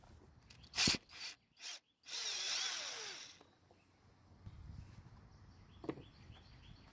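A power tool buzzes in short bursts, then in one longer run, while removing screws from the recoil guard of a Craftsman leaf blower, followed by quieter handling noises close by.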